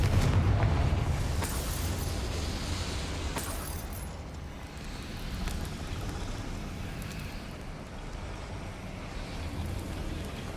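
A Confringo fire spell blasts in the Hogwarts Legacy video game, a loud deep explosive boom up front that decays into a rumbling, crackling tail, with a few sharp pops scattered through.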